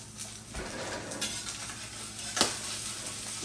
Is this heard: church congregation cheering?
no